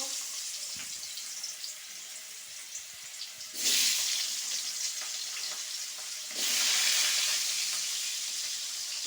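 Potatoes frying in a pan: a low background crackle that swells twice into a louder, bright hissing sizzle, each surge lasting a few seconds, with no voices.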